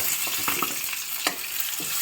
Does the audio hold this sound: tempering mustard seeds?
yes